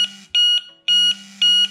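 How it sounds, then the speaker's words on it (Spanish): A Delkim fishing bite alarm sounds three loud, sustained high electronic tones, each about a quarter second long and evenly spaced, with no voices over them. "Está sonando la alarma"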